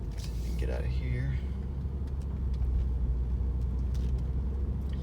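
A 2012 Acura TL with a 6-speed and some 200,000 miles drives down a street, its steady engine and road rumble continuous and close throughout, with a brief voice near the start.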